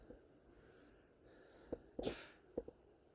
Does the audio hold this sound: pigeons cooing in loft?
no